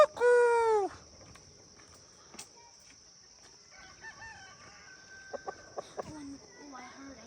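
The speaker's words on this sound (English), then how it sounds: "I heard another rooster." A rooster crows once, loud and near, on a hillside hiking trail by Champa Devi temple near Kirtipur, followed by quiet bird chirps, soft voices and a faint steady whine.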